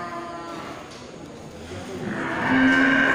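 Bulls ready for slaughter at a cattle market low with drawn-out moos, one loud close bellow swelling near the end over a murmuring background.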